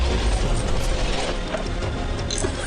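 A steady whirring Roborock P20 Pro robot vacuum hum with small clicking and ratcheting mechanical noises as it climbs over carpet, close and continuous, no voices.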